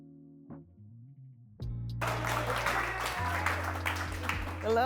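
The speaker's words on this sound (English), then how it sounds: "what do we do when our guest speakers come up? We clap." Audience clapping at a financial-freedom tour event as a guest speaker comes up, starting after a brief spoken intro with tonal sounds, then a sustained burst of crowd applause under a steady low hum.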